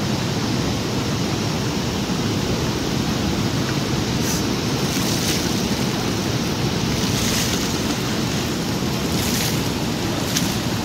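A man bathing with very cold water, a steady loud rushing spray of pouring water that continues without a break throughout.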